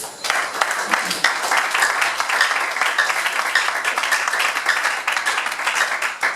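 A church congregation claps in praise of Jesus, a dense, steady burst of applause that fills the room for several seconds, with voices mixed in.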